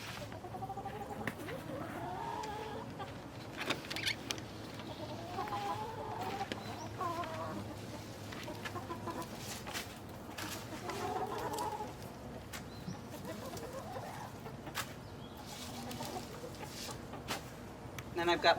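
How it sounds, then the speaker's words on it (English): Chickens cluck and squawk repeatedly at close range as they are fed garden scraps such as spinach, with a person talking intermittently in the background. "So let's go feed this to the chickens."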